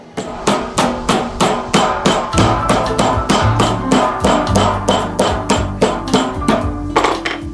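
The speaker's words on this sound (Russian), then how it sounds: "Мясной молоточек и отбить мясо" Rapid, steady pounding of a mallet on meat, a loud repeated thudding rhythm that continues without pause for several seconds.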